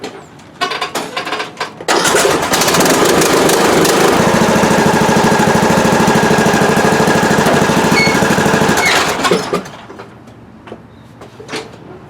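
After a few clicks and rattles, a John Deere lawn tractor's engine cranks and catches, then runs loud and steady nearby for about seven seconds before dying away into quiet.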